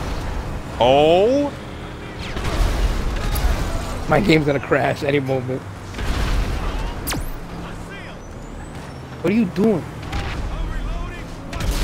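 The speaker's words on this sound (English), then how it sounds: "Well, I know you're around because I can hear explosions." Explosions and gunfire-like booms go off in a GTA game session, with repeated loud blasts and vehicle noise underneath excited voices talking over them.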